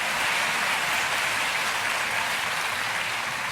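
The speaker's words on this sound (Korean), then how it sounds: "박수로 우리 귀한 교사들 감사와 격려를 하겠습니다." A church congregation applauds its teachers with steady, dense clapping that fills the room evenly from start to finish, with no voices standing out.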